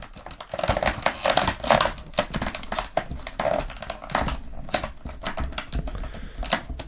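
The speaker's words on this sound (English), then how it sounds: "I guess I first have to cut off the strap that holds her in" Someone cuts off the strap that holds a Thundercats Nayda action figure in its packaging, making close, irregular snips, crinkles and plastic clicks that come in clustered bursts.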